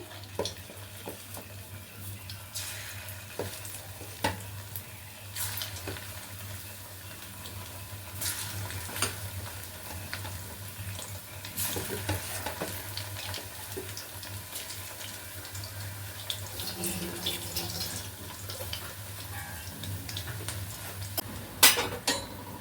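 Steady sizzling and bubbling of flower pakoras frying in hot oil, a continuous crackle with occasional stirring clinks, no voices.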